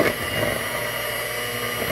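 An electric mixer or blender runs steadily at close range, a continuous motor whir with a hum that holds level throughout and carries no talk.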